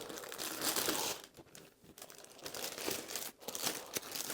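Crinkling of a plastic bag holding khinkali dough, close and continuous, with bursts of rustling and a brief lull partway through.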